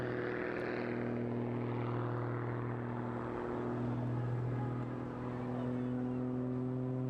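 A turbine-powered lightweight aerobatic aircraft flies at the Eastbourne International Airshow, giving a steady, continuous engine drone with a smooth tonal whine that holds for several seconds at a moderate distance.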